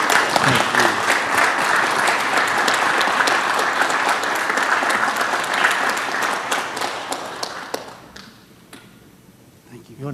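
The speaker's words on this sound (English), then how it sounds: "Let's all give Mr. Smith a big round of applause." An audience at a city council meeting gives a sustained round of applause that holds steady for several seconds, then thins out and fades toward the end.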